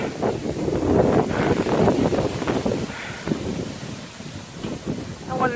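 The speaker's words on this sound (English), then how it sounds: "I hope you can hear the wind." Strong gusting wind during an outdoor rainstorm roars and buffets against the microphone, loud and continuous, easing slightly toward the end.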